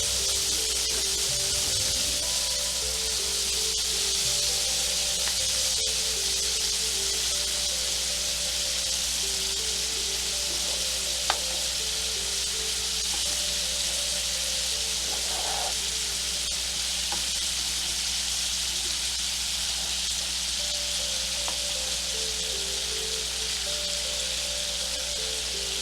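Scallops sizzling in butter in a hot pan as the butter browns for basting, a steady, continuous frying hiss with small spits and crackles, fairly close and alone.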